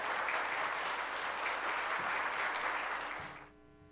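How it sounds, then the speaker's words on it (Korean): A church congregation at a Korean Sunday worship service applauds to welcome a special guest speaker, with a sustained, even wash of many hands clapping from a distance that stops abruptly near the end. "큰 박수로 우리 단에 환영하며 모시도록 하겠습니다."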